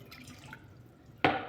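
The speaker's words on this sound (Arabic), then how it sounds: "نحطو كاس ماء" Warm water poured into a glass for semolina pizza dough, a short burst of splashing pouring near the end after faint kitchen background.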